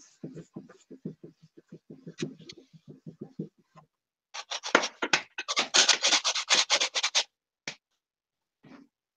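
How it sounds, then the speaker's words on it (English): Hand sanding during a workshop build: a run of short rhythmic scratchy rubbing strokes, then a louder burst of rapid, harsh back-and-forth scraping, fairly close, with a couple of isolated strokes trailing off at the end. "Is this sanding too loud, too noisy?"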